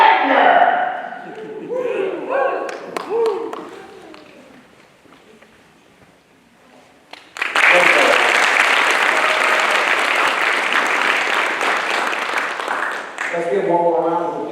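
Audience applause at an officer training school graduation ceremony, a dense sustained burst of clapping that swells suddenly and fills the room for several seconds, with speech before and after.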